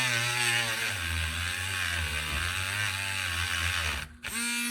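A cheap $7 Harbor Freight rotary tool whines loudly and bogs down under heavy pressure, its pitch sagging and wavering before it cuts out briefly and spins back up near the end.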